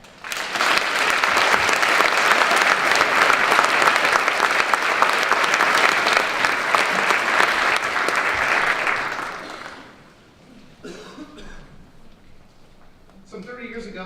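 An audience at a 2018 National Honor Society induction applauds to welcome a speaker, with loud, sustained clapping for about nine seconds that fades out before a voice begins speaking.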